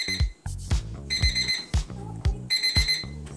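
An alarm clock built into a rug rings in repeated bursts of bright electronic beeps, interleaved with rhythmic lower thumping tones, loud and close throughout.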